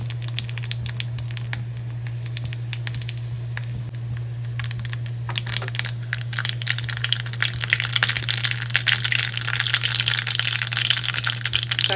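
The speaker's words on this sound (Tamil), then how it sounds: "கடுகு பொரிஞ்சிருச்சு." Mustard seeds and urad dal splutter in hot sesame oil for a chutney, with crackling pops that build into dense sizzling over a steady stove hum, close and without talk.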